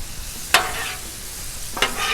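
Cajun shrimp and smoked sausage sizzle steadily on a Blackstone griddle, a continuous hiss with two sharp scraping stirs of a spatula against the flat steel.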